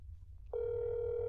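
After a brief quiet moment, a steady electronic telephone tone starts and holds, clear and close.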